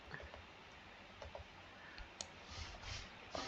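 A computer mouse clicks faintly a few times, with scattered light ticks over a steady background hiss.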